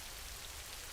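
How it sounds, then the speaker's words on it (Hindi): Heavy rain with hail pounding on a poor family's hut in a cartoon, a dense, steady hiss of drumming drops with no pauses and no talk. "बारिश के साथ ओले गिर रहे थे।"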